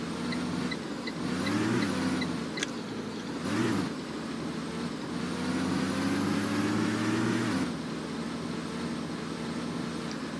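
A Thomas Saf-T-Liner HDX school bus drives along in the Rigs of Rods simulator, its engine droning and rising through gear changes with a couple of brief hissing bursts, steady and close with no talk.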